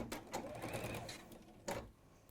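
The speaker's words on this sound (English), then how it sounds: "then we're going to leave 1/4 of an inch each end, keeping the same. And then sew it together." A sewing machine stitches fabric in a short close burst of fast whirring needle clatter, pausing briefly before another quick run.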